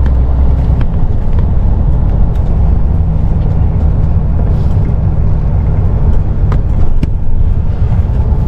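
A heavily loaded truck-and-trailer rig of about 53 tonnes labours under strain, its engine a loud, constant low drone heard from inside the cab throughout.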